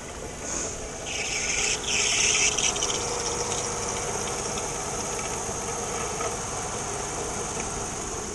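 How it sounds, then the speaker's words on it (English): A Mercedes E430 with the M113 V8 idles close by with a failing alternator and worn pulleys, giving a steady engine rumble overlaid with a loud, persistent high whine and brief extra squeals early on. "Yeah, the alternator's going too, guys."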